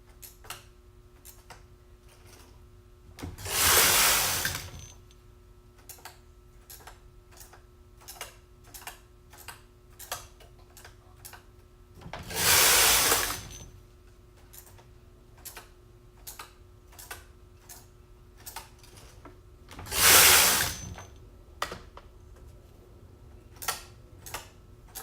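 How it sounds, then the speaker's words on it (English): A knitting machine carriage is pushed across the needle bed in three loud broadband sweeps of a few seconds each, separated by quieter gaps filled with sharp ticking clicks, during an e-wrap cast-on. "take the carriage across to the first row"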